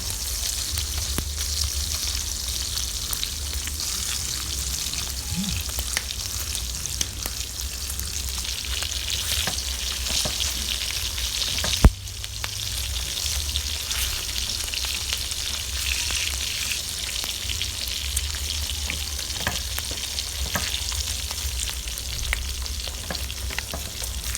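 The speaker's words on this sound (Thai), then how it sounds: "หมูสามชั้นย่างกระทะกับน้ำจิ้มแซ่บๆค่ะ" Steady, dense sizzling of pork belly frying in a pan, a constant crackling hiss with a brief sharp clink midway, no voices.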